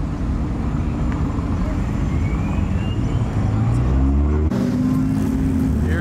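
A Porsche GT2 RS and a McLaren 720 drive past at a Houston cars and coffee meet, a loud steady engine roar with a rising tone swelling as they go by, voices faintly underneath.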